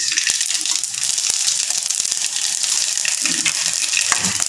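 A constant loud hiss of sizzling oil with scattered sharp pops and crackles throughout as mustard seeds splutter in a hot pan.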